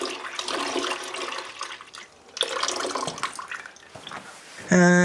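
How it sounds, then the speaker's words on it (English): Tap water from a pump-fed faucet gushing and splashing into a basin in uneven surges with a brief dip midway, ending in a sudden tonal hum as the flow or pump changes. "Now, to have tap water is as easy as plugging the pump and turning on the faucet."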